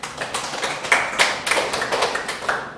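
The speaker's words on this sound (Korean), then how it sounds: "하나님께 영광의 박수를." A church congregation applauds during a Sunday worship service, a steady, dense clatter of many hands clapping close and fairly loud, with no talk over it.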